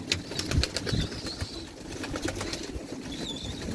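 Soft cooing and a few wing flaps from a 13-year-old pigeon, with faint chirping birds in the background and no talk.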